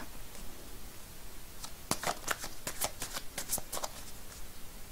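Tarot cards being shuffled close up, a quick run of crisp riffling snaps in the middle of the clip over a quiet room hiss, with no talking.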